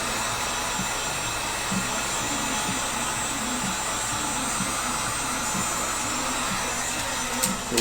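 A heat gun blows hot air onto material for a take-down Sipahi bow, a loud, steady whooshing blower hum that runs unbroken throughout, with no talking.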